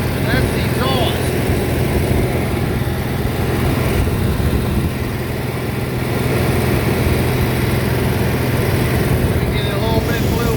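Running generator heard near its exhaust outlet, a loud, steady engine drone with a constant hum that holds unchanged throughout, with faint speech in the background.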